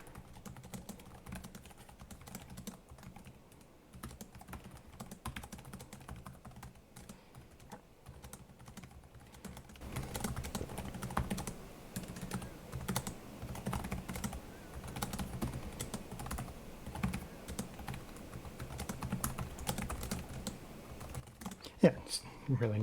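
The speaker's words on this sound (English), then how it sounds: "Let's do a quick typing test." Quick typing on a Lenovo ThinkPad E14 Gen 6 laptop keyboard (2024 Intel model): soft, dense key clicks in a steady patter, quiet at first and then fuller and more rapid, close up with no talking.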